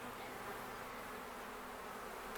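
Honey bees buzzing during a beehive inspection at an apiary, a steady dense hum of many insects close by, faint and continuous with no talking.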